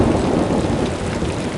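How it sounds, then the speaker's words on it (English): A thunderstorm effect from a Horton Hatches the Egg story app plays loud and steady: dense pouring rain mixed with low rolling thunder, alone without any voices. "It poured and it lightened, it thundered, it rumbled."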